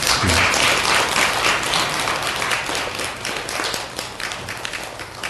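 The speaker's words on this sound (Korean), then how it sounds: "박수 한번 보내주십시오" A congregation at a Sunday Won Buddhist service in Anam temple breaks into dense, lively applause that fills the room, then thins and tapers off with scattered claps near the end.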